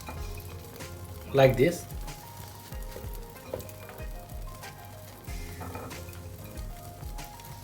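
Omelette egg mixture with sprouted green lentils frying in a pan, giving a soft continuous sizzle with a brief louder burst near the start while a person speaks briefly over it.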